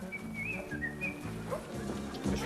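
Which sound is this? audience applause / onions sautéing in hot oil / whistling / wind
whistling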